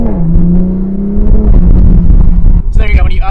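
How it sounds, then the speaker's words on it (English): A Toyota Supra upshifts under hard acceleration: a loud engine drone climbs, then drops at the gear change with a quick, snappy note before pulling again, heard close and alone. "when you upshift under hard acceleration, it really makes a nice, like, quick, snappy noise"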